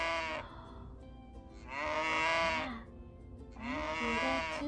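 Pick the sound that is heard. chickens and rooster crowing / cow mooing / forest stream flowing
cow mooing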